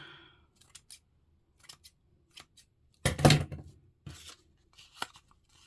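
Scissors cut through paper while a file folder journal is being made, giving a close series of crisp snips and one longer, louder cut near the middle, with quiet gaps between.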